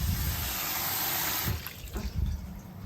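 A kitchen water tap runs at full flow with a loud, steady rushing stream that eases slightly and turns more uneven toward the end, with no voices.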